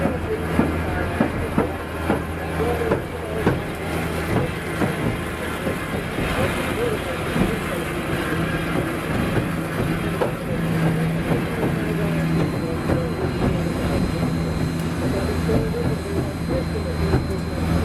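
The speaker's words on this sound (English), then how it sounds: "that exhausting steam is what actually creates the chugging sound you hear when you see a steam locomotive" Southern 4501 steam locomotive on a run at the Tennessee Valley Railroad Museum, a steady rolling rumble with continuous rail clatter and a low hum over about eighteen seconds, with a voice talking over it.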